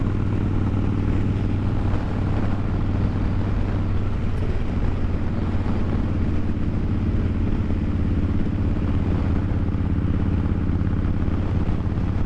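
Kawasaki Vulcan Classic motorcycle being ridden, a steady loud engine drone with wind rush running continuously throughout, no voices over it.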